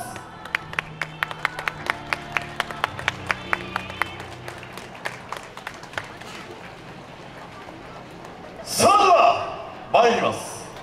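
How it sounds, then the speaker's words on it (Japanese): A crowd claps steadily along in time with music at a yosakoi dance performance at the Urawa Yosakoi festival in Minami-Urawa. The rhythmic claps are followed by loud shouted calls from the dancers near the end. "皆さん温かい手拍子よろしくお願いいたします。"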